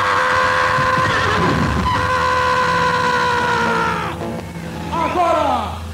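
A voice imitates Tarzan's yell, a long, loud, wavering warbled cry held over several seconds during a live Brazilian TV variety show, backed by a steady noisy studio and crowd din.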